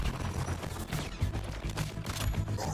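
Sustained gunfire and shooting effects from the Batman Arkham video game roll on as a dense, continuous rattle over a low rumbling game soundtrack.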